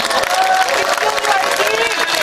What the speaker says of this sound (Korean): 여러분, 계속해서 뜨거운 박수를 부탁드리겠고요